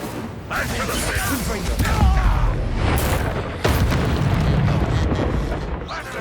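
A fire spell erupts in a fantasy wizard combat game, a loud roaring burst with booming impacts layered over dense battle noise, a second blast surging in midway and sustaining to the end.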